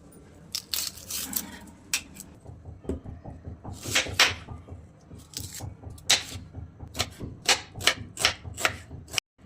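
A knife chops onion finely on a board, producing a steady run of crisp, close taps, quicker and denser in the second half, with a low murmur beneath.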